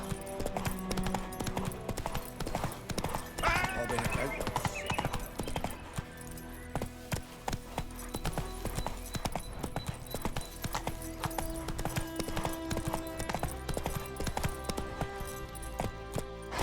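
Hooves of Roach, a horse galloping in The Witcher 3, in a fast steady clip-clop rhythm throughout, loud and close, with a brief whinny-like burst early on.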